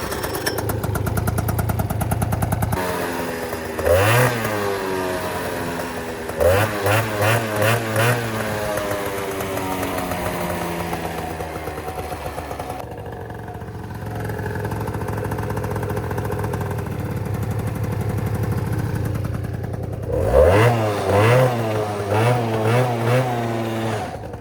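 A Gilera Runner 180cc scooter engine runs rough just after fresh fuel, idling unevenly with several sharp revving bursts and sputtering pulses, loud and close throughout.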